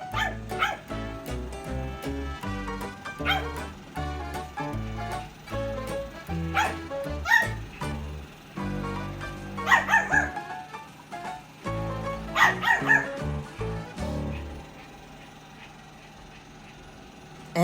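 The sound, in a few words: small dog barking and whimpering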